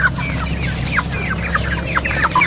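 Rhode Island Red chickens clucking on a farm, repeated short chirpy clucks in an irregular rhythm over a low steady hum, close and clear with no talking.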